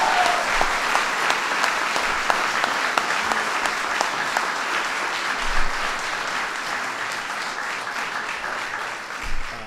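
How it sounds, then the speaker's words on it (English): Sustained applause from a crowd gathered to welcome the Kentucky Wildcats basketball team, dense clapping filling the room at steady loudness before tapering at the end. "That's Worth a big round of applause."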